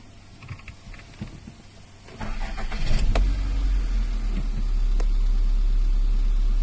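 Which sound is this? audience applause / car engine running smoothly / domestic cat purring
car engine running smoothly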